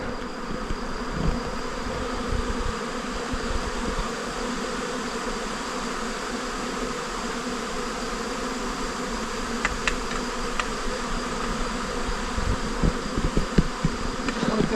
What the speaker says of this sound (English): How about this for some beehives?